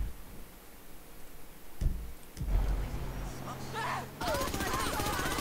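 Rapid bursts of slow-motion gunfire in GTA V crackle over a low rumble, with a slowed, drawn-out quality and a brief talking voice early on.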